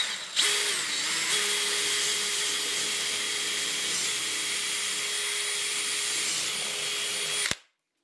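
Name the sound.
drilling a hole in a 50x50 wooden block, 10 mm bit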